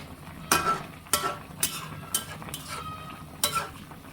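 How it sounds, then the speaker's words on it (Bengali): Puti fish curry with potol and jackfruit seeds being gently stirred in a pan: about six scraping strokes at an uneven rhythm over a soft, steady sizzle. "এখন আমি আস্তে করে নেড়ে চেড়ে দিই"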